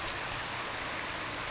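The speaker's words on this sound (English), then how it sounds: "Oh, oh no! It's raining." Steady rain begins falling beside a river, a dense, even hiss of drops filling the whole stretch without pause, fairly close and loud, with no voices.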